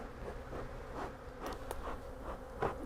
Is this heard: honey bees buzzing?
yes